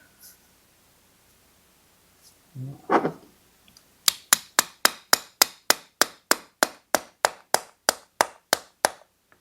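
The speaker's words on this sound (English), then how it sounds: "Just tapping around it, and then see if it comes loose." A tractor's Kohler engine gasket is knocked with a steady run of about fifteen sharp, evenly spaced taps, close and clear, after a short burst of quieter handling noise.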